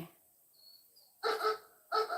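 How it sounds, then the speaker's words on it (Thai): A dog barks twice, two sharp separate barks spaced well apart against a quiet background, preceded by a faint high tone. "หมายังเห่าเลยเร็วๆ"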